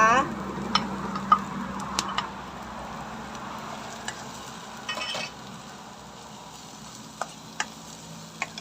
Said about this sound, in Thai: ผัดเห็ดไป